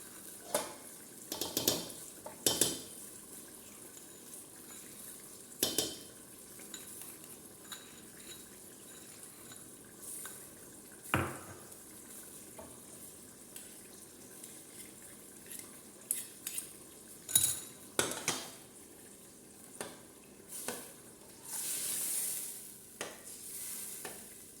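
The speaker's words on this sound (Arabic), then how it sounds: "خليها تتقلب الباهي الطماطم" Tomato sauce frying in a pot while a ladle stirs it, a soft steady sizzle broken by scattered scraping and clinking strokes against the pot, close and fairly quiet.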